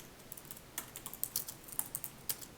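A computer keyboard gets a quick run of soft, close key clicks at an uneven rhythm, faint and alone with no talk.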